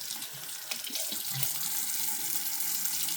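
Tap water runs into a sink as a makeup powder brush is rinsed, a loud steady hiss of flowing water close by with small splashing changes as the brush moves.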